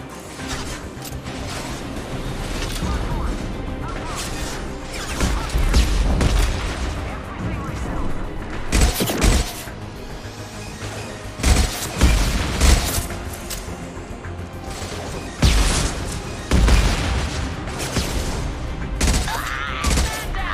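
Grenade blast and gunfire in the sci-fi shooter game Mass Effect 2: dense, continuous bursts of shots and booming explosions with mechanical clatter, loud and close throughout a chaotic firefight.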